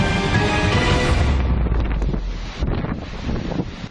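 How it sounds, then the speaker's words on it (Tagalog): Strong wind roars with heavy surf from large typhoon waves at a coastal village in Gigmoto, Catanduanes, a loud continuous rush and buffeting with no speech. "Halos lamunin ng malaking alon ang mga bahay sa Barangay Sikmil sa Gigmoto, Catanduanes"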